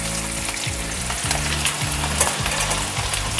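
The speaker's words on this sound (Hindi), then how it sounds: "इसमें डालेंगे हम कटी हुई हरी मिर्च।" Chopped green chillies frying in a pan for Maharashtrian sabudana khichdi, a loud, dense sizzle with rhythmic stirring scrapes about every half second, close up and without voices.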